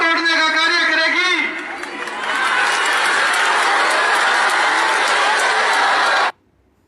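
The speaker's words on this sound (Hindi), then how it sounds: "सामने मूर्खों की भीड़ की तालियां, उनके जयकारे तो आप सुन ही रहे हैं" Large crowd at a political gathering applauding and cheering, a dense continuous roar of clapping and shouts that dips briefly then swells again before cutting off abruptly; a voice with chanting tones rises at the start.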